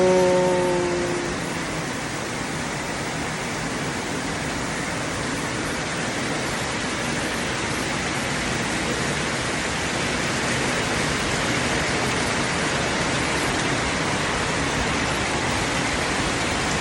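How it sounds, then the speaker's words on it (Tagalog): Heavy, steady rain pouring down in a dense, unbroken roar that continues at the same loudness throughout. "Sobrang lakas ng ulan."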